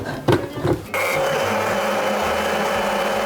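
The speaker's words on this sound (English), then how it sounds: "So 6 eggs, 1 cup of milk, 1 cup of flour, and then you blend it." A blender runs at a steady high whir, mixing a batter of six eggs, a cup of milk and a cup of flour, after a few clunks as the jar is set in place.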